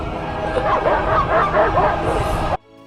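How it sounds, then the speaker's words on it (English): Dogs bark and yip in a gothic horror film, several sharp, excited barks and whimpers tumbling over one another for a couple of seconds, loud and close, with voices mixed in before the sound cuts off abruptly. "where does the dogs come from?"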